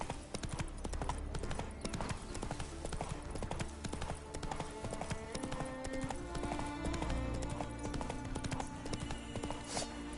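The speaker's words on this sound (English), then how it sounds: "Whoa there, Roach" A horse's hooves clip-clop steadily in The Witcher 3 video game, a brisk continuous rhythm of hoofbeats over game ambience, with a faint whinny and brief voice moments.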